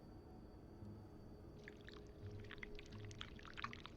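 Hot wax pours from a pot in the video game This Bed We Made, a soft, close liquid trickle with splashy bubbling that starts midway and keeps going over a quiet low hum, no talk.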